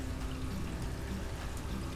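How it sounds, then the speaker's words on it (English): Liquid pouring onto pork with mojito seasoning, a steady continuous splashing pour lasting a couple of seconds, close and even, with no talking. "I want to pour some liquid in there too"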